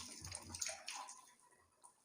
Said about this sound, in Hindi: 3 बार आपको सर पर पानी बहाना है अच्छे से, जिस्म को रगड़ते हुए